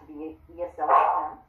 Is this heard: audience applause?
no